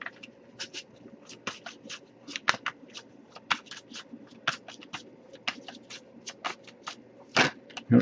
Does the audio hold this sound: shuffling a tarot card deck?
yes